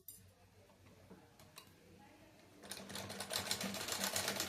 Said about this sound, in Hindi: फिर इसमें सिलाई चलाते जाना है।